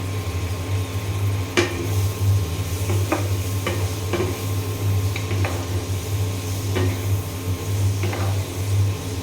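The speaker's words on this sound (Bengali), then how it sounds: "আমি ডাটা আর আলু দিয়ে দিলাম" Drumstick pieces and potatoes are stirred into spiced masala in a pan, a low simmering sizzle broken by several sharp clacks of a spatula scraping and tapping the cookware, close and without voices.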